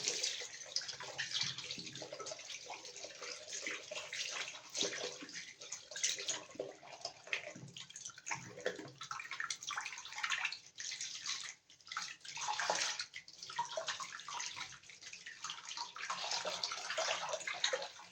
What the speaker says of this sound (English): And then I'm gonna run some water.